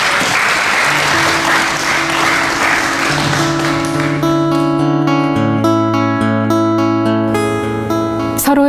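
Pilgrims at the close of the first day of a Buddhist walking pilgrimage give hearty applause, loud dense clapping from a large crowd that continues as sustained musical tones rise underneath.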